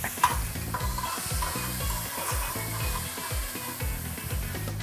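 Margarine sizzles and crackles in a frying pan, a steady close hiss broken by repeated scraping stirs of a utensil, with no voices.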